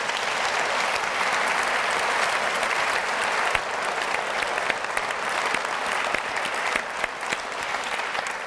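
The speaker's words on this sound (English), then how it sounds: "So let's give him another round of applause." Sustained audience applause fills the room at an executive speaking event, steady dense clapping from a crowd with no pauses throughout.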